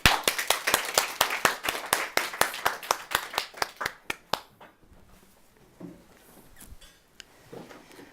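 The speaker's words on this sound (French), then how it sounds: "On peut applaudir Alice ?" An audience claps for a volunteer on stage at a business event, a few people in even rhythmic claps that slow and thin out after about four seconds, leaving quiet room noise with faint rustles.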